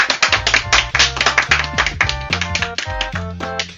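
Rapid sharp claps in quick succession ring out loud and close, with a few low tonal hits between them.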